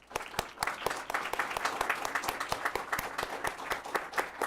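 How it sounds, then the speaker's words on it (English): Applause from the audience at a city council meeting as an award of excellence is presented, a steady patter of many hands clapping with sharp individual claps standing out, continuous for several seconds. "Please give them a round of applause."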